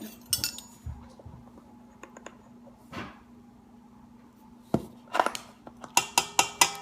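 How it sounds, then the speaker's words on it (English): A utensil mixes cupcake batter in a bowl with sparse clinks and taps, then a quick run of sharp rhythmic knocks against the bowl near the end. "And you're gonna mix it right up"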